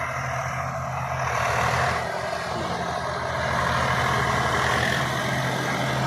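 A steady, low engine idles continuously, a heavy diesel rumble that holds at a constant level throughout with no voices.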